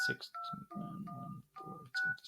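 Mobile phone keypad dialing a landline number, a series of short DTMF tones with steady pitch pairs, close and clear, spaced between bursts of handling and background noise.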